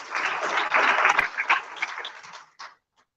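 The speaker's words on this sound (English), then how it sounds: "Please greet Mr. Weiss with a round of applause." A conference audience applauds a keynote speaker, a dense burst of clapping that swells, holds for about two seconds, then thins out and stops, with one brief final patter.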